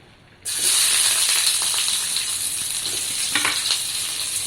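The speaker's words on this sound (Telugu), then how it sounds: "అలాగే పెద్దది వేసుకొని బాగా ఫ్రై చేసేసుకుందాం" Oil suddenly erupts into a loud, steady sizzle as onions and tomatoes hit the hot pan, with faint stirring scrapes under the constant hiss.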